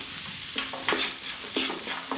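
A spoon stirs spices into a plant-based bolognese sizzling in a pan, with soft scraping strokes at a steady pace over a continuous gentle fry, close up and without talk.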